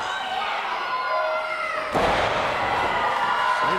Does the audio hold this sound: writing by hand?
no